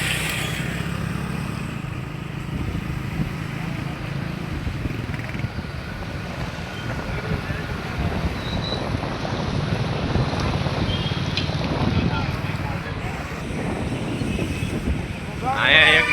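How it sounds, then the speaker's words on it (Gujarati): A heavy rainstorm with strong wind in Botad, a loud continuous roar and buffeting gusts battering the microphone, with a voice faintly present beneath and a sharp gust near the end. "બોટાદમાં ધોધમાર વરસાદ આવ્યો."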